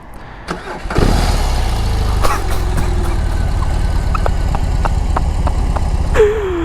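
A BMW R18 First Edition motorcycle with an 1800 cc engine starts up after a brief starter crank, then settles into a loud, steady, rumbling idle close by, with a short blip near the end.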